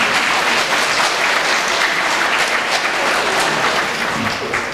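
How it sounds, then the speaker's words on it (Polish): Warm audience applause fills the hall, a loud, continuous wash of many hands clapping with no break from start to finish. "Gorące brawa."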